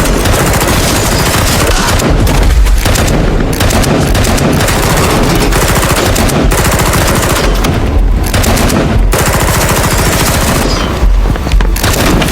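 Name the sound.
gunfire in a film shootout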